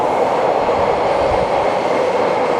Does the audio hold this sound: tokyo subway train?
yes